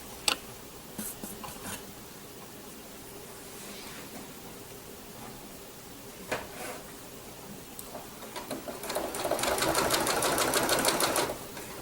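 A sewing machine stitches a blanket stitch along quilt binding, quiet and close, with faint ticking and intermittent bursts, then a steadier, faster whirring run near the end.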